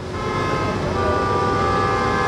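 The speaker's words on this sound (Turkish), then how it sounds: "vatandaşlarımız yine kornalarını çalmaya devam ediyorlar" Car horns blare in a long, overlapping chorus from a queue of waiting vehicles at the Kapıkule border crossing, sustained and loud amid traffic noise.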